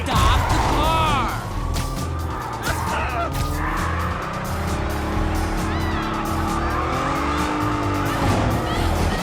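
Tires squeal and a car engine revs through a chase in the Ultimate Spider-Man 2 video game, loud and continuous with skidding sweeps, layered over in-game voices and music.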